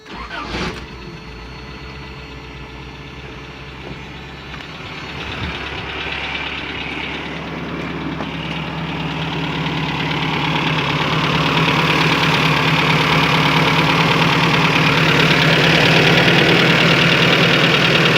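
An old car engine starts with a brief clatter, then runs and idles steadily, its droning rumble swelling louder and rougher toward the end, heard up close with no talk.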